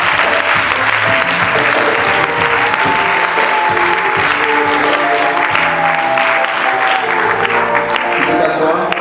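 A church congregation applauding loudly and continuously, a dense wash of clapping with some voices and cheering mixed in throughout.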